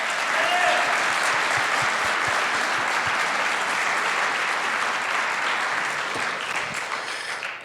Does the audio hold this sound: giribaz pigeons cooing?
no